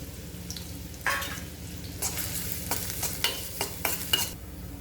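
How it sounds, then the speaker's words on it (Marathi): Onion sautés in a pan after cumin seeds, a soft continuous sizzle broken by several sharp spatula scrapes and stirs toward the end, close and fairly quiet, no talking. "जिऱ्यानंतर कांदा घालायचा आहे व कांदा छान गुलाबी असा परतून घ्यायचा आहे"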